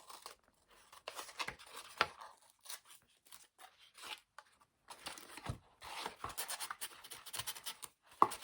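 Paper rips in short, irregular bursts, close up, with brief pauses between tears and some scratchy handling noise.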